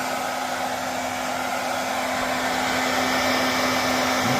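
A powerful 1800 W hair dryer runs continuously up close, powered by an EcoFlow Delta 2 power station, a loud steady whooshing roar with a constant motor hum and no pauses.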